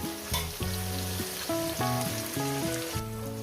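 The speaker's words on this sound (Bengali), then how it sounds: "এবার এটাকে আমি সুন্দর করে ভেজে তুলে নেব" Bitter gourd pieces frying in oil, a hissing sizzle running beneath a prominent melodic music track that dominates the short stretch.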